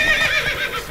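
Geralt's horse Roach in The Witcher 3 lets out a loud, close whinny lasting about a second, with bright wavering tones and faint hoof clops underneath.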